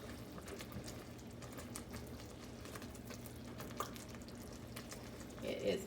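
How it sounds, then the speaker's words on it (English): A thick no-bake cookie mixture bubbles softly in a pot, with small pops and spits over a low steady simmer, fairly quiet and close. "It is bubbling."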